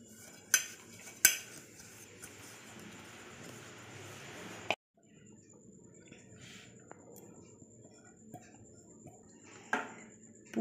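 An aluminium bowl being greased with oil gives off light metallic clinks and a few sharp utensil knocks against the bowl, close and quiet, with soft rubbing between them and no speech.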